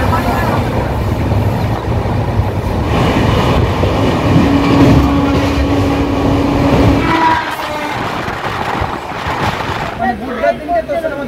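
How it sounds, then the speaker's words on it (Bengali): A passenger train runs on the rails, its loud, continuous rumble and rattle carrying close by for most of the stretch before easing off, with a voice talking over it. "ট্রেন একদম পারফেক্ট টাইমেই ছাড়লো"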